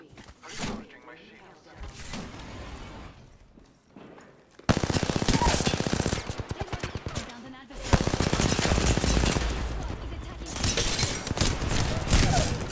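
Gunfire in the battle-royale game Apex Legends crackles in loud, dense bursts of rapid automatic shots that keep breaking off and starting again, while players talk over the action.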